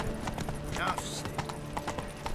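Roach, a horse in The Witcher 3, gallops with steady, close clip-clop hoofbeats and a brief whinny, while a voice talks over the hooves.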